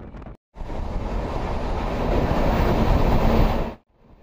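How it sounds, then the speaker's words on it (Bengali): A passenger train on the Howrah to Chennai line rolls past Chilika Lake in Odisha, giving a loud steady rumble and rushing roar for about three seconds that starts and stops abruptly. "এখন আমাদের ট্রেন যাচ্ছে চিল্কা হ্রদের পাশ দিয়ে।"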